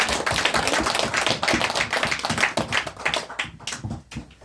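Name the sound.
congregation clapping in applause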